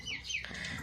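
A Kazakh poultry yard with an Ukheyi Uilu rooster, which gives a few close, brief clucks and calls. Chicken sounds carry on throughout, with no talking.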